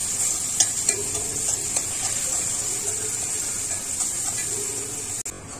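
Onions and curry leaves frying in a pan, giving a steady bright hiss and sizzle that runs throughout, with a few light stirring scrapes and a sharp clack near the end.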